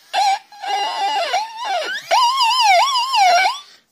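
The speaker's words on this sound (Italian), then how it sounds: "ovviamente adesso con la dinamo fa eh, questo suono" A wavering electronic siren wail from a Degen DE13 hand-crank emergency radio, rising and falling, loud and close, cut into a few bursts with brief gaps between.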